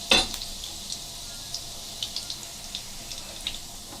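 Fresh rosemary dropped into a hot pan on a stove turned down to medium, giving a sharp initial crackle that settles into a quiet, steady sizzle with small scattered pops.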